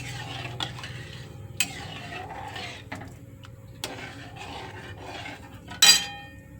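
A spoon stirs melting sugar in a pan, scraping and clinking against the metal in irregular strokes with a few sharper knocks and a louder clatter near the end, close and clear.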